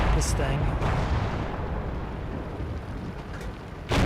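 Tank cannon fire strikes an enemy tank in World of Tanks, producing a loud, sustained booming rumble with sharp impact bursts at the start and end.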